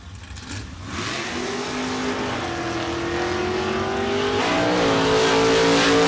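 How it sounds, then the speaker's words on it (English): Two drag race cars, a 1971 Ferrari and a 1976 Monza, launch and accelerate hard at a drag strip, their engines roaring loud and steady with rising pitch and shifting over about six seconds, with no talk. "Ted Seipel out of San Leandro, California, the Hoosier Tires 1971 Ferrari."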